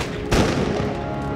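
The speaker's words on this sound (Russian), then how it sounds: "В ответ на выстрел из училища раздался ружейный залп." A rifle volley fired at a military school breaks out as a sudden loud crack and rumbling burst, then decays into a dense, noisy wash of sound.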